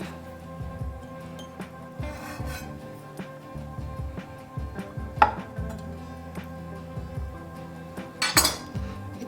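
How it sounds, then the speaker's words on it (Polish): A knife slices quail eggs in half on a board, giving a series of short taps and clicks with sharper knocks near the end, close and clear with no talking. "Jajka kroję na połowę."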